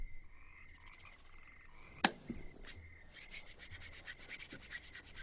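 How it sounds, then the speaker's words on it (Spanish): A floor is sanded in a film scene: after a sharp knock, rapid rhythmic rubbing strokes build up and repeat steadily toward the end, with no speech. "Lijaré el piso."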